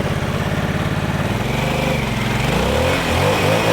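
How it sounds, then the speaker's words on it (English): A Harley-Davidson motorcycle engine revs hard for a burnout, a loud, steady rumble that climbs and shifts toward the end with no talking. "I like to start all my new bikes with a burnout."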